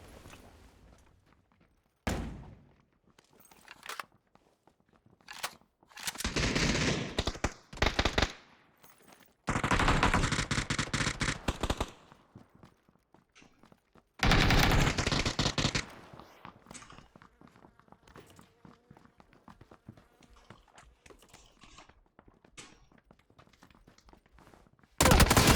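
Bursts of automatic gunfire and single shots in a shooter video game, loud clustered volleys separated by quieter stretches with faint footsteps, no talking over them.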